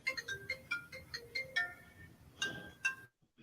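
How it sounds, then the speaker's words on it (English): An iPhone ringtone jingle plays a bright, bouncing melodic pattern of repeated chiming notes for about three seconds, fairly loud and alone, then cuts off abruptly. "I hate that iPhone fucking jingle."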